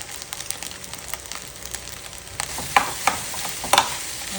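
Sinangag, Filipino garlic fried rice, is stir-fried in a pan with a steady soft sizzle, and scraping stirs sharpen into distinct clacks of the utensil against the pan near the end.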